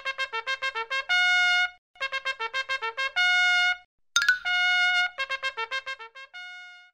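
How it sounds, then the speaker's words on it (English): Trumpet playing a bright melodic line of quick staccato notes followed by longer held tones, repeated in phrases, clear and close with short gaps and a brief sparkling chime between. "It's a trumpet."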